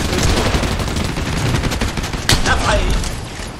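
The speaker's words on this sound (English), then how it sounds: "Oh my god, this pistol goes crazy." A pistol fires rapidly in a video game, with quick sharp shots in a dense burst and one louder crack partway through.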